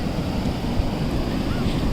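Surf washes onto a beach at Honnavar, Karnataka, in a continuous low roar, mixed with gusts of wind buffeting the microphone.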